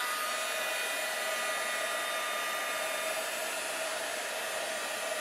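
A heat tool blows a loud, steady, unbroken rush of hot air for several seconds, used to melt clear embossing powder on a holiday card stamped with berries, with no voices.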